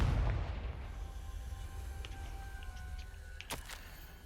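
A Confringo fire spell bursts in Hogwarts Legacy, opening with a loud, deep explosive boom that quickly fades into a rumbling tail, followed by scattered small crackles and a brief sharp burst later on.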